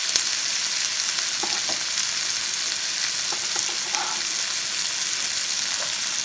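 Onion and celery fry steadily in a pan, a continuous close sizzle with occasional faint clicks of stirring, no voices.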